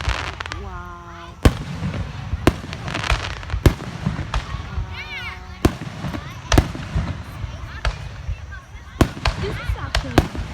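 Fireworks in Alice Springs burst in a string of sharp, loud cracks and echoing booms spread across the clip, with whistling rockets and people talking between the explosions.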